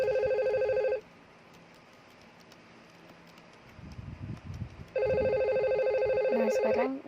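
A simulated telephone rings during a Cisco Packet Tracer VoIP call across three routers, with a loud electronic ring cycle at the start, a quieter pause with rustling and faint talk, then another long ring burst.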